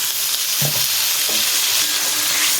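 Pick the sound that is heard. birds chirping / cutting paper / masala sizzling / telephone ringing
masala sizzling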